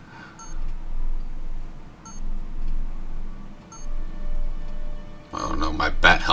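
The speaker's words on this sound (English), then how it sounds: "Oh no, my bat helmet, it's beeping." Batman's bat helmet in the video game Batman: The Telltale Series beeps in three brief, evenly spaced electronic chirps over a low hum, followed by a burst of louder noise.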